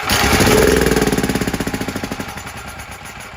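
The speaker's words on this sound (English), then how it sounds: "You're going to see that it wants to run, but obviously it's not staying running because of the issue with the carb." A small, cheap generator engine with a faulty carburetor sputters as it tries to run on throttle body cleaner, firing in a rapid, loud chug that slows into distinct pulses and fades as it dies out, with no talk.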